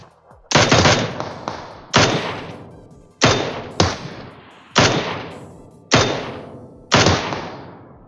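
Mini-14 rifle fired in PUBG Mobile, seven sharp single shots in an uneven rhythm, loud and close, each ringing off briefly with no talk over them.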